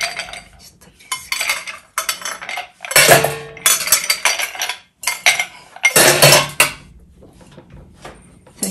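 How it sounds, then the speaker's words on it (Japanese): Ice cubes clatter into a glass for a Tom Collins cocktail in a series of sharp, close clinks and rattles, coming in several separate bursts with short pauses between them. "グラスに氷を入れます。"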